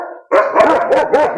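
German Shepherd and Cane Corso dogs bark loudly at close range, with a quick run of about four deep, rough barks following a brief whine.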